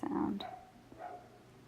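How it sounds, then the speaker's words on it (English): Dog barking outside, one short loud bark near the start followed by a fainter bark or two at a distance, then quiet. "oh, there's a dog barking outside."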